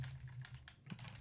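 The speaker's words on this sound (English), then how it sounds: "we're simply going to type in nx.draw" Quick, soft keystrokes on a computer keyboard patter in an irregular rhythm, close and quiet, with no voices.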